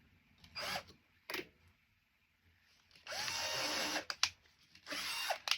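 A power drill whirs in several short bursts while flat Roman shades are being made, then a longer sustained run with rising pitch, separated by near-silent pauses.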